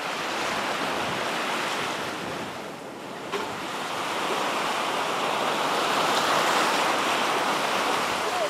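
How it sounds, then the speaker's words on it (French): Ocean waves breaking close to the shore at a surf spot on Guadeloupe, a steady broadband wash that swells and recedes, with some wind noise over the microphone and no voices. "Les vagues viennent se briser plus près du rivage"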